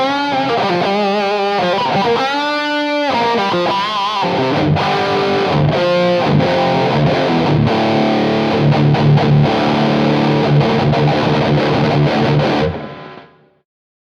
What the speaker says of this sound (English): we're going to go for an old school plugin, the Reverb Effector